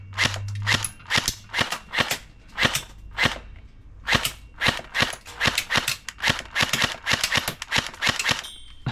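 Cheap airsoft rifle firing a rapid string of sharp snapping shots, about twenty crisp pops in quick uneven succession, loud and close with no talking.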